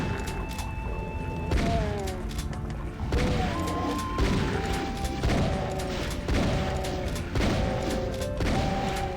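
Repeated shotgun blasts at zombies in Doom II on the Heartland map, a string of punchy booming shots every second or so, mixed with the enemies' gliding, wailing growls.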